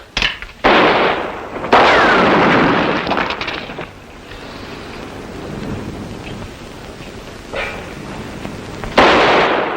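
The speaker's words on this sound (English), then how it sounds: "Stop shooting into there, Luke." Gunfire in a classic western TV show, several loud sharp shots and bursts ringing out near the start, around two seconds and again near the end, with reverberant rumbling between them.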